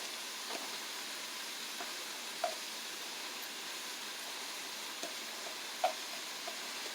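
Ground meat and two onions browning in a pan over medium heat for goulash, giving a faint, steady sizzle with a few soft pops scattered throughout.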